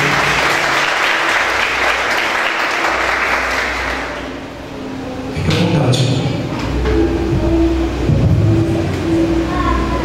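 Congregation at an Igreja Mundial service applauding the mayor in church, a loud, full burst of clapping that swells for about four seconds, then dies away into quieter room sound.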